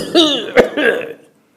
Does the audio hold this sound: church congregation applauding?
no